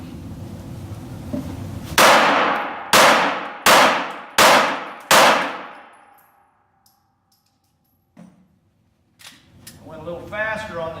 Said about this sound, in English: I'm going to shoot another 5-shot string